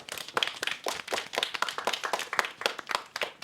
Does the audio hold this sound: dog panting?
no